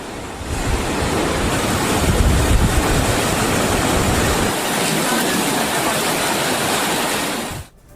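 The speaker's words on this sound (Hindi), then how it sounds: "चिनाब नदी पूरे उफान के साथ बह रही है।" Chenab river in full flood during Jammu and Kashmir flash floods, a loud, continuous roar of rushing water with wind-like noise filling the whole stretch, steady and close, cutting off abruptly near the end.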